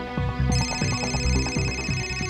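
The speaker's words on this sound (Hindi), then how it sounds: "फोन उठा।" A telephone rings in a tense crime-drama scene, its electronic ringtone repeating a loud, close melodic pattern in regular bursts with no talking.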